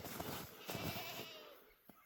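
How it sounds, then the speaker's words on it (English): Goats on a farm bleat faintly at a distance in winter, a few wavering calls over steady wind and outdoor noise. "The goats are ready. They saw us hauling the stuff for the cows and started yelling."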